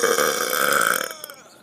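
A person lets out one long, loud, rumbling burp that holds steady for about a second before trailing off, close up and alone.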